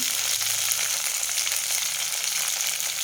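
Cauliflower pieces shallow-frying in a pan of hot oil, giving a dense, even sizzle that stays close and steady throughout, with no voices.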